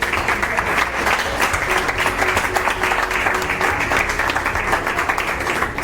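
Attendees at a Microsoft tech event give the speakers a big round of applause, a loud, continuous wash of many clapping hands lasting throughout.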